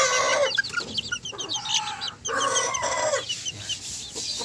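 Young Sebright bantam chickens, about six weeks old and silver-laced, clucking and peeping continuously in a small backyard coop, with overlapping chirps and short calls filling the whole stretch close by.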